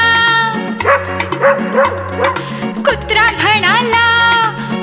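A dog barks in a Marathi children's rhyme, giving a quick series of yips and barks over bouncy, steady background music.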